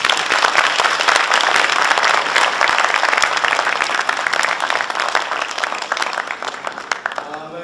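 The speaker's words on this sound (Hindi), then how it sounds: "एक बार जोरदार तालियां हमारे लिए।" Loud, sustained applause from a theatre audience at an Urdu drama festival in an auditorium, dense and close, gradually easing toward the end with a few voices mixed in.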